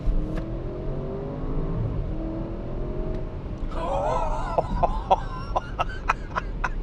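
An Audi RS6 engine rumbles at low revs, then climbs as the throttle is floored into a rising whine, with sharp shift cracks toward the end, heard from inside the car.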